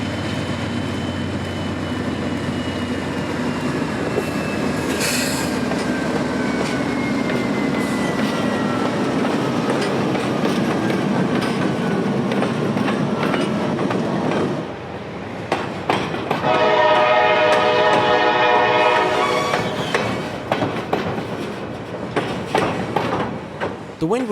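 A CSX freight train rounds a sharp bend back onto the main line, loud and close, with a sustained rumble of rolling cars and rhythmic wheel clatter. Its horn sounds in a long multi-tone blast partway through, with some wind noise.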